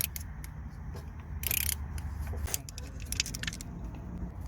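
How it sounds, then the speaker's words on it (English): An 8mm ratchet works a male Torx bolt on the diesel particulate filter of a BMW 320d E90 with an N47 engine, giving close metallic clicks and jangling rattles in short bursts. "We are using a 8mm ratchet on these male torques."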